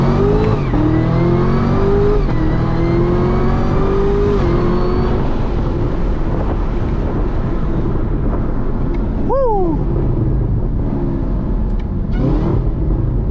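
A Chevrolet Camaro ZL1 heard from inside while driving, its engine loud and close, climbing through rising revs with gear changes and a sharp squeal partway through.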